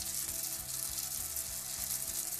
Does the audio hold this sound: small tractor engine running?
no